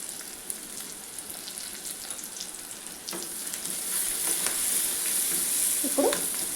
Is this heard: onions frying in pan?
yes